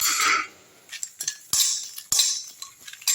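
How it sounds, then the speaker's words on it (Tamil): Dried ginger, curry leaves, dried chillies and mint being stirred in a dry kadai, with bright metal scraping and clinking of a spoon against the pan coming in short, irregular strokes. "முதல்ல சுக்கு, கருவேப்பிலை, காஞ்ச மிளகாய், புதினா, இது 4த்தையும் வந்து முதல்ல வந்து இந்த ட்ரை கடாயில் வறுத்துடலாம்."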